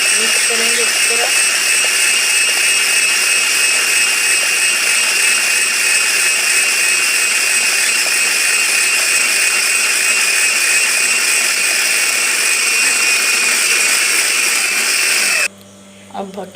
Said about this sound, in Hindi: ब्लेंडर से मिक्स करेंगे।